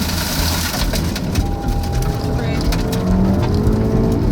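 A car's rear glass shatters as 90 mph rear-flank downdraft winds from a tornado slam the vehicle. Loud crunching impacts burst over a heavy, continuous roar of wind and rattling, with voices faintly underneath.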